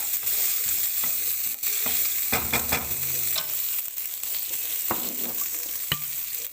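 Shallots and crushed ginger stirred through sesame oil in a hot pan, a steady close sizzle with scraping stir strokes and occasional clatter of the utensil against the pan.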